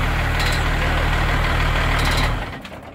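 Cummins diesel engine in a 1992 Dodge D350 truck running at a loud, steady idle with a low knocking rumble, then cutting out and fading near the end.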